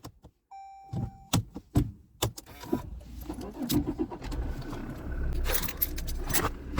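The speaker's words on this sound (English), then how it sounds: "Look, you have to press the key." Toyota Hilux car keys jangling and being handled, a series of sharp clicks and rattles close by, followed by a rising rumble of vehicle noise.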